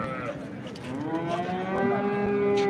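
At a cattle market, a cow of a good breed moos in long, harmonic, rising calls that swell louder toward the end, set against a busy background of crowd murmur.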